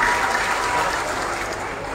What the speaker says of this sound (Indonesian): Kita beri tepuk tangan untuk Pak Syarif.